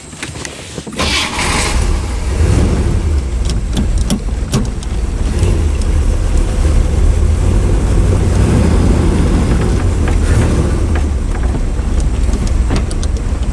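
A 1966 Corvette C2 convertible with a 327 300 hp engine and 4-speed manual runs on a test drive, its engine rumbling loud and steady after a brief start, with road and wind noise throughout.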